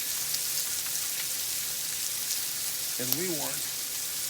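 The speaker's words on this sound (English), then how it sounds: "So we're going to let these onions cook. We're going to let the pork cook." Pork and onions frying on a griddle at about 360 degrees make a steady, fairly soft sizzle throughout, with a short bit of speech near the end.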